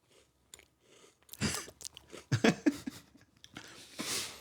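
Crunchy chewing of a caramel Tim Tam chocolate biscuit, close and loud, with a sharp bite and several crisp crunches in quick succession followed by softer mouth sounds.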